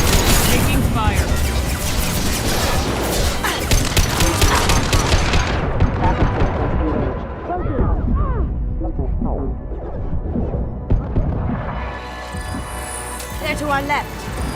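Dense video-game gunfire in Mass Effect 2, with loud bursts of automatic and rapid fire plus booming impacts, close and continuous, easing briefly in the middle before resuming, with character voices calling out over the shooting.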